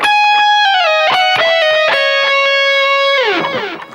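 A distorted electric guitar plays a melodic phrase from a ballad intro, with sustained bent notes, quick picked changes and a long falling slide at the end, loud and upfront with no talking.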